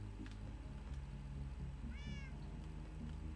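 A cat in a Minecraft world gives a short rising meow partway through, set over a steady low ambient hum with faint soft clicks.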